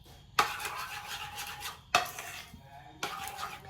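A tan removal face pack being mixed in a bowl, giving three sharp scraping clacks spaced about a second apart with softer rubbing between them, close and clear with no talking.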